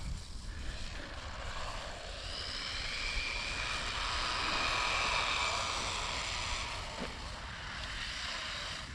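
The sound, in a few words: Haiboxing RC car motor revving under too much throttle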